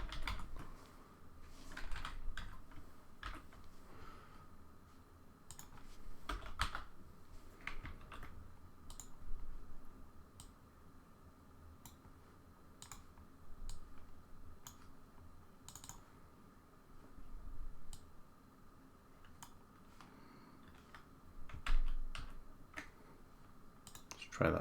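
Typing on a computer keyboard, quick irregular bursts of light key clicks close by, fairly quiet, continuing through the whole stretch without talk.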